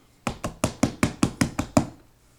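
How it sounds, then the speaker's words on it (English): Hand clapping, eight sharp, evenly spaced claps in quick succession, close and loud against a quiet background. "clap it up for me"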